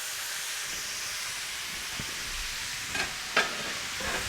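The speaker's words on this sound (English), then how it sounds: "we're gonna take our chicken, our mushrooms, our carrots, and our red onions and put it in the pan" Chicken, mushrooms, carrots and red onions sizzle in a hot pan with their juices, a steady hissing fry broken by a few sharp crackles and stirring scrapes near the end.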